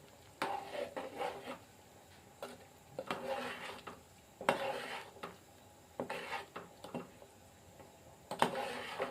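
Chicken curry ingredients stirred in a cooking pot, with repeated scraping and rubbing strokes of a utensil against the pot in an uneven rhythm, close and quiet, with no talk.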